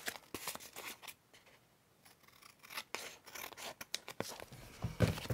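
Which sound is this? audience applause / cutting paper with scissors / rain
cutting paper with scissors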